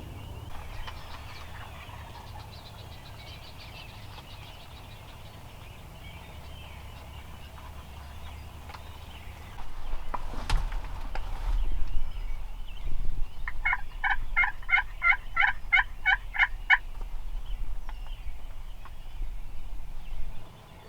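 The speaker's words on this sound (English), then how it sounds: "we're gonna let it get light and listen for some gobbling" Wild turkey gobblers at dawn, heard after quiet outdoor ambience: one distant gobble, then a clearer rattling gobble later on, with faint rustling close by.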